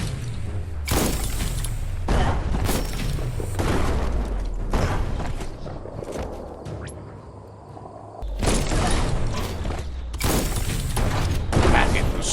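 Bomb lobber explosions in the action game Biomutant land as a series of heavy booming blasts with low thumps and crackling debris, loud and close, separated by quieter rumbling stretches with a voice speaking briefly.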